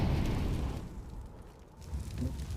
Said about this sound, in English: Oh, that flashbang. Bouncing it off the vent, an interesting choice.